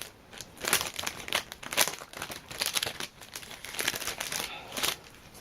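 A K-pop merchandise package is cut and pulled open close up, with bursts of crinkling, tearing plastic and paper in an uneven rhythm of rustles and sharp crackles.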